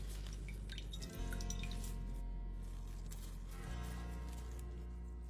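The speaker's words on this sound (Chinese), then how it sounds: "你看，挤出来的水这么多。" Water squeezed by hand from salty tofu puffs trickles and drips into a bowl, a soft, close, continuous dribble with scattered small drops.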